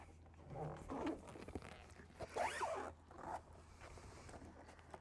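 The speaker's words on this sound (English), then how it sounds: "And then we just simply zip this up." A zipper is pulled closed on a roof panel storage bag for a 2026 GMC Hummer EV, heard up close as several quick rasping zips in bursts, with faint background noise.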